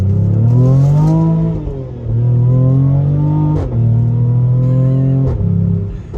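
A Mercedes-AMG GLE 43 SUV engine with a 9-speed gearbox revs hard and loud up close, climbing in pitch repeatedly with brief dips between gear changes.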